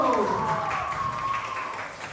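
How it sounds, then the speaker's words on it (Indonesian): Scattered applause from an audience at a community outreach session on early marriage, puberty and reproductive health, a steady patter of many hands clapping close by for about two seconds, with voices talking over it at the start. "Tepuk tangan semuanya."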